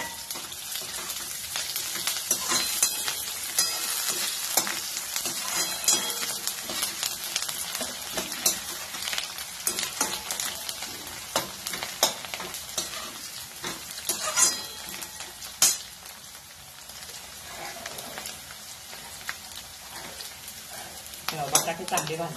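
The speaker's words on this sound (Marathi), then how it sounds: "आता हे बटाटे भाजत आलेले आहेत, हे पहा." Potatoes fry and get stirred in a pan for sabudana khichdi, giving a continuous soft sizzle. Scraping stir strokes and small pops run throughout at moderate volume, with no voices over it.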